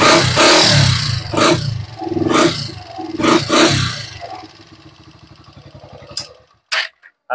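A Honda TMX Alpha 125 motorcycle fitted with a budget replacement carburetor revs loudly several times up close, then settles into a rapid, even idle putter before cutting out, with a few sharp clicks near the end.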